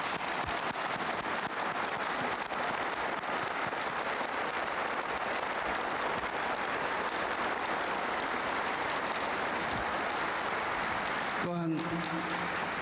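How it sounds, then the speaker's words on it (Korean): Sustained applause fills a hall as an audience claps in honor of the welcome given by Pyongyang citizens during the 2000 inter-Korean summit, a dense steady patter that breaks off abruptly near the end. "감사의 박수를 한번 보내고 싶습니다"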